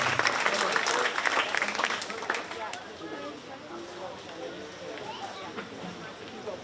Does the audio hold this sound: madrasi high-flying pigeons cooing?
no